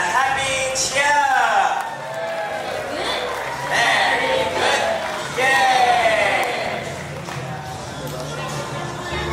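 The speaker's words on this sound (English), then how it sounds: "let's give the 5 year, 6 year children a happy cheer." A crowd of parents and friends cheers and whoops for 5- and 6-year-old children at a Montessori childcare centre concert, with excited voices in bursts and an amplified voice speaking over the noise.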